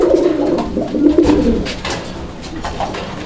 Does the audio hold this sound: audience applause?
no